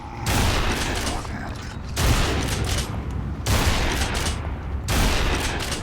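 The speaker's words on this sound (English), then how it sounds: "That is the Gears of War shotgun." Gears of War video game shotgun firing, four loud booming blasts at roughly even intervals, each followed by a sustained noisy tail and mechanical clatter, with no gaps of silence between shots.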